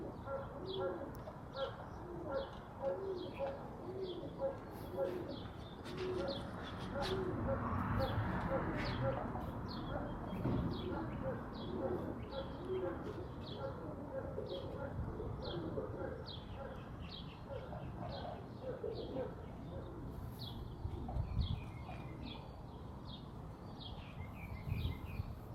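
Kit pigeons, a mix of older and young birds, coo in a steady, repeating pattern of soft calls, with a voice now and then under the calls.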